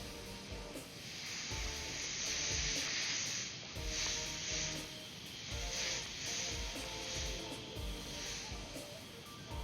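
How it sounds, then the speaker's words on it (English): Airbrush spraying paint onto a T-shirt, a steady airy hiss that swells and eases in pulses over a continuous background hum. "this particular airbrush works really great with the one needle it came with"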